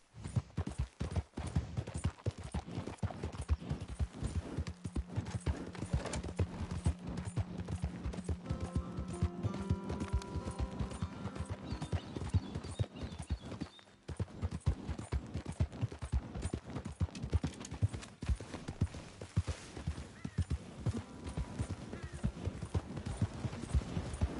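Horse hooves clip-clop at a steady, quick pace in Red Dead Redemption 2, joined by a dense layer of game sounds and background music throughout.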